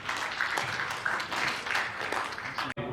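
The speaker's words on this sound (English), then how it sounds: "Please a round of applause." Audience applause at a carbon neutral fuels panel session, steady dense clapping from a seated crowd filling the hall for about three seconds before cutting off abruptly near the end.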